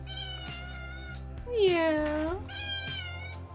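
A pet cat meows repeatedly, close and loud, with a long drawn-out yowl between shorter meows, while a person speaks briefly over it.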